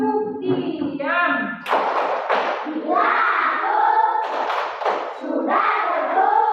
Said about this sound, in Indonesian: Tepuk diam.